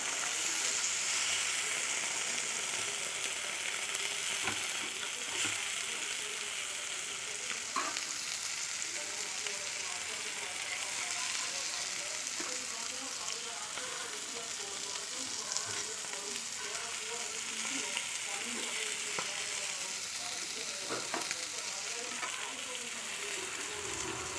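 Fish pieces fry in hot oil in a home kitchen, a steady close sizzle with scattered pops and crackles running continuously for the whole stretch, occasional stirring knocks, no talk.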